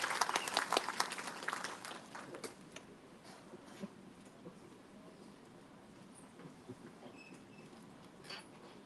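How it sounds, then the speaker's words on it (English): Distant applause from a crowd at a cervical cancer awareness seminar, strongest at first and then tapering into scattered claps over a quiet room. "Let's give them a warm round of applause"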